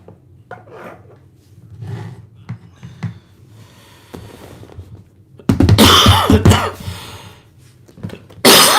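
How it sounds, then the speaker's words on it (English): Several harsh coughs from someone close by, spaced out amid soft rustling and handling sounds, the last two loud and rasping. "Still got a bit of a cough."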